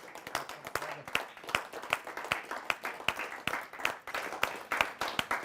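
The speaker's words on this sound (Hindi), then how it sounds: "आइए एक बार जोरदार तालियों से स्वागत करते हैं" Audience applause greeting a poet at a kavi sammelan, a steady, brisk patter of many hands clapping close by, with no voices over it.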